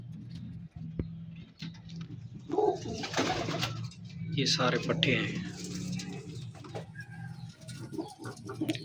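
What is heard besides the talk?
pigeons cooing at breeder's loft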